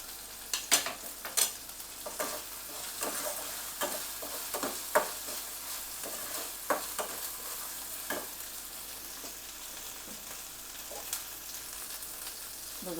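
Chopped tomato with ginger garlic paste fries in a pan, a soft continuous sizzle punctuated by irregular scraping stirs and clicks of a spoon, close but fairly quiet.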